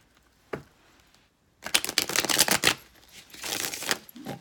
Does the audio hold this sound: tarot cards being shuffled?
yes